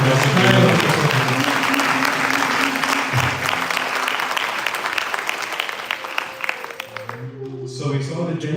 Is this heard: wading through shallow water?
no